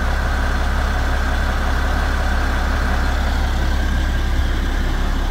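A Massey Ferguson 1135 tractor engine idles steadily inside the cab, a loud, continuous low diesel rumble that stays even throughout with no changes in pace.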